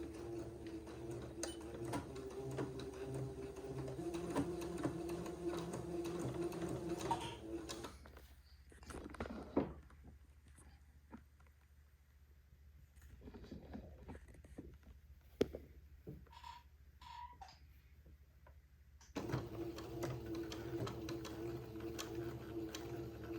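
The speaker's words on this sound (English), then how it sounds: "I'm sewing right on the blue line that I drew." A sewing machine stitches a dress side seam in bursts of quiet, fast mechanical whirring, stopping for several seconds in the middle while only faint clicks and handling noises remain, then starting again, with no talking.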